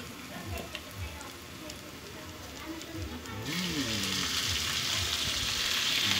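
Canned corned beef hits a hot pan and starts frying, with a steady sizzle that grows louder and brighter partway through and continues to the end, while a person talks over the start.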